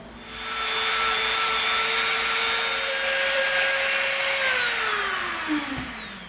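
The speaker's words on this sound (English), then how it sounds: "now we're going to round off the edges with our Dremel" A Dremel rotary tool rounds off the edges of EVA foam with a steady, loud, close high whine for several seconds, then spins down with a falling pitch as it stops.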